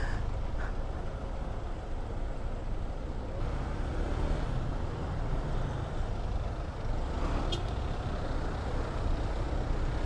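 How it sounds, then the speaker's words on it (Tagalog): Heavy road traffic near Burnham Park, with trucks and cars rumbling past in a continuous dense roar, engines droning close by and a brief hiss like an air brake near the end. "Traffic na po dito."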